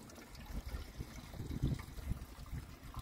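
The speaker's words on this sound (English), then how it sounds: "So let's put in some fuel." Fuel trickles and splashes into the empty tank of a Baotian BT125T scooter, an uneven close pouring with small gurgles and no talking.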